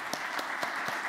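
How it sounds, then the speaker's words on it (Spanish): An audience at an international conference on climate crisis planning claps, giving a brief, faint burst of applause with a few distinct claps standing out above the steady patter. "Nos dio, sí, merece un aplauso."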